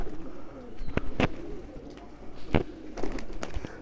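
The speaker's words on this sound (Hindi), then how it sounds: "देखे जी, देखे जी कबूतर, कबूतरों की बहार लग गया, कबूतरों का मेला।" Kasuri golden pigeons coo in a steady low murmur, with a few sharper wing flaps or clatters standing out nearby.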